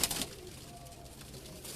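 Pigeons from a breeder's loft in the old city of Lahore, adults with their young chicks, give soft low cooing against a hushed indoor background, with a brief louder burst at the start.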